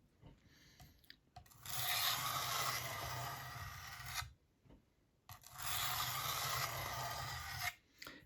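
A kitchen knife is drawn across a fine-grit diamond stone in two long, close rasping strokes, each a sustained gritty scrape separated by a brief pause, with faint light scratches before them.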